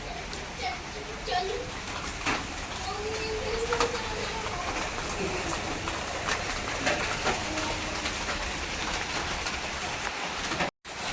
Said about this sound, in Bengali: তো বৃষ্টি নেমেছে